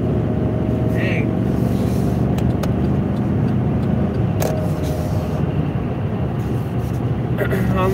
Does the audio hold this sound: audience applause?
no